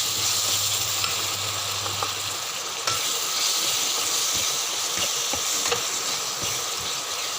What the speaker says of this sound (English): I have been added a ginger garlic paste. So let it fry for a while.